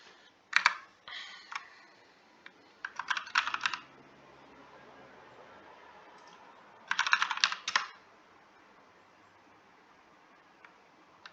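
Typing on a computer keyboard, several quick bursts of crisp close keystrokes separated by pauses, fairly loud against a quiet room background.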